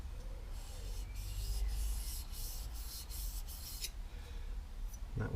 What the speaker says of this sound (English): Okay, I'm just going to take the burr off.